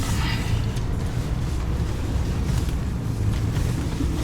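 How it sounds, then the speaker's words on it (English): Steady wind roaring outdoors during off-roading with a 2021 Jeep Gladiator diesel towing a trailer, a continuous broadband rush with low rumble throughout, close to the microphone. "now we're in the middle of the wind again"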